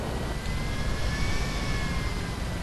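A helicopter flying in the video game GTA 5 gives a steady, fairly loud engine drone with a thin whine on top, continuous for the whole moment with no talk over it.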